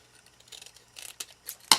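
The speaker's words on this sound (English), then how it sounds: "cut it with your scissors" Scissors snip through paper for a heart-shaped box craft, a few quick crisp cuts close by, ending in a sharper final snip, with no talking.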